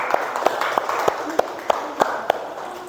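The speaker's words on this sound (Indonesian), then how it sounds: "tepuk tangan buat kelompok Al-Falaq" A class of fourth-grade students claps for a student group, with about eight sharp, fairly even claps standing out over a steady murmur of background noise.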